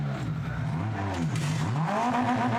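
A Kessel Racing Ferrari 488 GT3 race car at Brands Hatch, its engine revving loudly and unevenly nearby with rising and falling pitch sweeps as the driver works the gears, with no talking.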